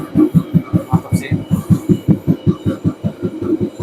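Inside a noisy economy-class night train carriage in Indonesia, heavy rhythmic thumping of wheels on rail joints beats steadily about four or five times a second, loud and close, with faint rattles above.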